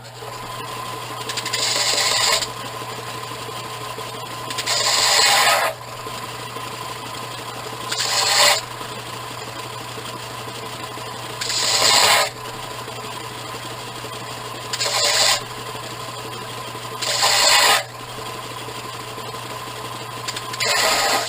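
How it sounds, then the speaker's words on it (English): A belt sander deburrs a metal part for a lathe carriage stop in a hobby machine shop; a constant motor hum runs throughout, broken by about six loud, raspy grinding bursts of two seconds each as the piece is pressed to the belt. "Using the belt sander to deburr my part."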